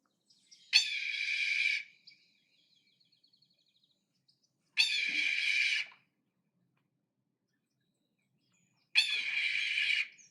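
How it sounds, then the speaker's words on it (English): Three loud, piercing raptor screams from a red-tailed hawk, played from a recording, each about a second long and evenly spaced several seconds apart, ringing out alone against silence. "The actual creator of that call is a red-tailed hawk."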